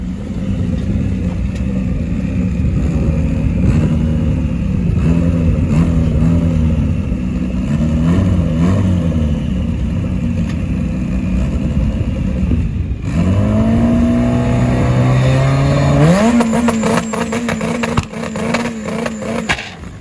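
A drag race car launches down the strip, its engine stumbling flat off the line before picking up and revving hard, a loud continuous roar with rising pitch sweeps in the second half.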